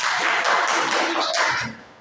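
Students in a classroom counting game clap together in a brief burst of several quick, fairly loud hand claps that fade out at the end.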